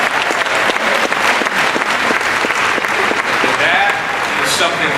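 Crowd applause for a group of high school football players at an all-star game, a dense, steady clapping that stays loud and continuous throughout.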